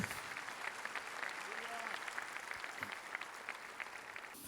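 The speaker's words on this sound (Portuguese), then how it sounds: "Vamos aplaudir ao Senhor por ouvirmos a palavra de Deus." Church congregation clapping together after a sermon reading, a sustained patter of many hands heard from across the room, with faint background voices.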